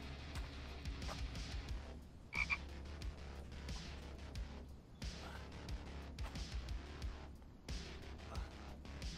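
Frog croaking in the survival video game The Infected, a run of quiet, rhythmic croaks repeating in short bursts over a low steady hum, faint and without speech.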